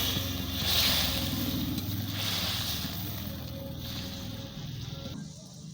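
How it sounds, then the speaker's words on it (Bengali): Water splashes and rushes steadily into a cooking pot of sautéed potato and eggplant curry, a continuous watery pour lasting several seconds and then stopping abruptly near the end. "এবারে পরিমাণ মতন জল দিয়ে দেব।"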